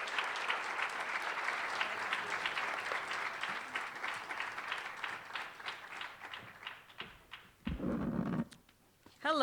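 Sustained audience applause welcoming the EPA administrator at a healthy homes summit, steady clapping from a crowd in a hall for several seconds, fading out before a brief louder burst of other noise near the end.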